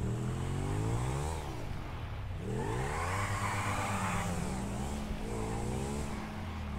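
Engine of a car in Grand Theft Auto 5 on a test drive, revving and shifting steadily with rising and falling pitch sweeps, loud and continuous throughout, alone.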